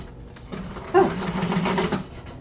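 A sewing machine runs steadily, stitching through fabric and lining at a continuous, fairly loud whir with a brief louder mechanical knock in the middle; no talk.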